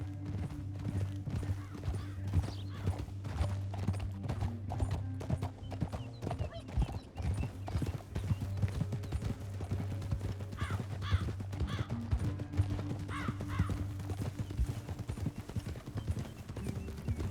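Horse hooves clip-clop steadily on the ground in Red Dead Redemption 2, a continuous rhythmic trot heard with an occasional whinny, a low engine-like drone and birds cawing in the background.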